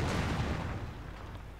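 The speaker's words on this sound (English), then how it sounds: "Pack Howitzer continues to prove itself a menace to the German army" Pack Howitzer artillery fire in Company of Heroes 2, heard as a heavy low boom with a rumbling tail that slowly fades over about a second and a half, fairly quiet overall.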